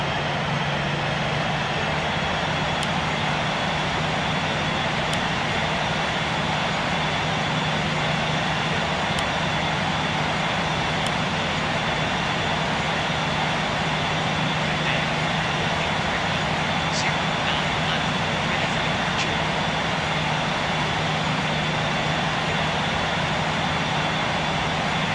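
An Airbus A350-1000 lands at London Heathrow on a test flight, heard as a steady, unbroken engine roar throughout. Faint ticks and brief sounds occasionally sit over the drone.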